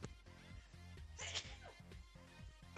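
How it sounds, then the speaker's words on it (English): A single sudden sneeze bursts out mid-way, sharp and close, with someone talking before and after it. "That sneeze came out of nowhere."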